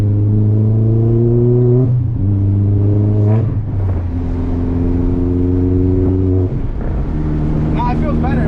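An MK4 VW GTI with a shortshifter pulls hard in third gear, the steady engine drone climbing in pitch, dropping at quick shifts, and climbing again, loud and close from inside the cabin while people talk over it.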